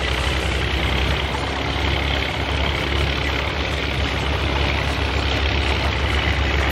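Heavy tracked vehicle engine in the Spintires MudRunner off-road game, a loud, steady low rumble that drones on without a break, with no talk over it.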